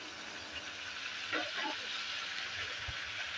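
Spices for karela sabzi fry in a pan while being stirred, a steady close sizzling hiss with a few soft scraping strokes, no talking.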